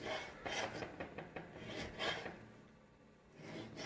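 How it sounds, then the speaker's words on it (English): A knife slices food into thin strips for Roman gricia spaghetti on a cutting board, making quiet, close rasping strokes in an uneven series, with short pauses between cuts. "So I'm going to cut this in thin strips."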